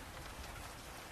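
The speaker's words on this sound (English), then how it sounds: "Listen to the rain" Steady rain falling on a surface, a dense, even hiss of drops that stays constant throughout with no talk over it, quiet overall.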